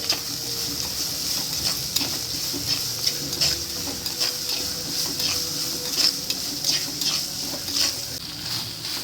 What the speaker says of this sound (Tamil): இப்போ எடுத்து வச்சுருந்தா பூண்டை நசுக்கி இதில் போட்டுடலாம் இது கூட இது நல்லா வதங்கட்டு